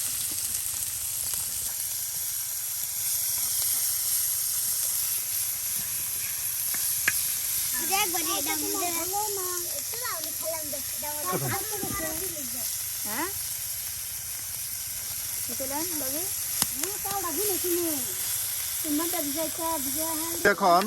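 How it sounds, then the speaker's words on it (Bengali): Onions and garlic fry in hot oil with fish and turmeric, giving a steady loud sizzle and hiss throughout, while a voice talks over the cooking. "ভেজে নেওয়া হচ্ছে পেঁয়াজ রসুনগুলো"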